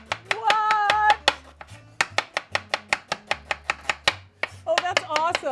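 An onion laid flat is sliced thin with a knife, giving a quick run of sharp, close chops on a board in a steady rhythm, with brief voices speaking at the start and end.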